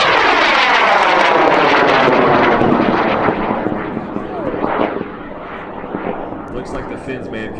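A high power rocket on a level 3 certification flight roars off the pad with a loud, crackling motor blast that slowly fades as it climbs away into the distance.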